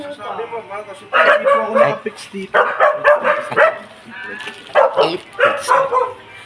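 Repeated dog barks and yips come in short bursts, fairly close and loud, with a person talking over them at moments.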